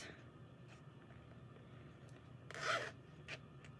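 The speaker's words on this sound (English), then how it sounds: "And I love these zippers that have this hook on it." A zipper with a hook on a canvas and plastic Temu bag is pulled open in one quick, close rasp, followed by a shorter scrape in a quiet room.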